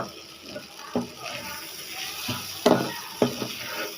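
Chicken and mashed potato filling for samosas frying in a pan and being stirred, a soft continuous sizzle broken by several sharp scraping clacks of the spoon against the pan.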